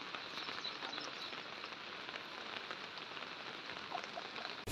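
Heavy rain pours steadily on surfaces in Bhainsa town, a dense, even hiss with no pauses and no voices.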